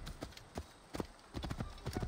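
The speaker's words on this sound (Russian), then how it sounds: "Ослики всякие гуляют" Donkey hooves clop along at a walking pace in Assassin's Creed Origins, a run of soft, uneven taps over quiet ambient game sound.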